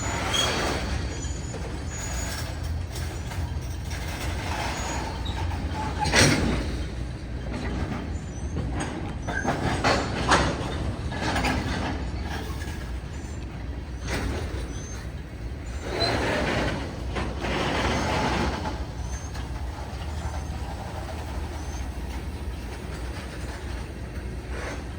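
A Union Pacific/BNSF freight train rolls past nearby, its railcars making a steady, heavy rumble for the whole stretch, with occasional hisses of air brakes and faint wheel squeal rising above it; no one speaks.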